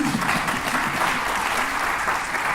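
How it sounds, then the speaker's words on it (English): A conference audience gives a round of applause for a local farmer, a continuous wash of clapping from many hands with faint voices mixed underneath. "A round of applause for our local farmer."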